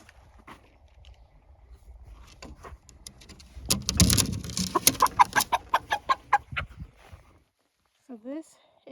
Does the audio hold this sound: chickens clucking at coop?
yes